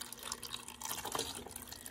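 Water used as simulated feed is poured into a beekeeping mini-nuc feeder, a short burst of splashing and trickling liquid, close and continuous for about two seconds with no voices.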